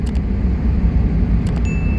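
Heavy road traffic gives a continuous low rumble of passing cars and engines, steady and fairly loud, with a few brief clicks and a short high tone near the end.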